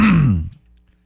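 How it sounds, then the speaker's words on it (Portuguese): One short, voiced throat clearing from a man, close and fairly loud, fading quickly into near silence. "foi só um pigarro"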